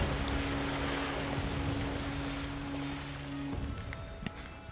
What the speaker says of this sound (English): Nice big old sploosh down